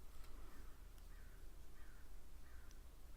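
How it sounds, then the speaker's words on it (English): A crow caws outdoors in three or four short, faint calls spaced about a second apart, heard at a distance over a steady low rumble. "Now there's crow outside."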